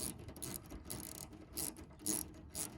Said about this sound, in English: Take this little 7mm bolt out.